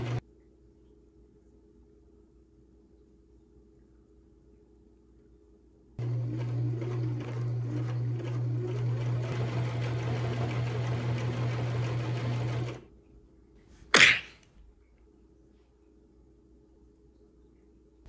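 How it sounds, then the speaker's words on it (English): A sewing machine hems around the edges of fabric for van window covers. It runs in one steady whirring burst of about seven seconds in an otherwise quiet room, followed by a single sharp click. "I went and hemmed all around that with the sewing machine so it wouldn't fray."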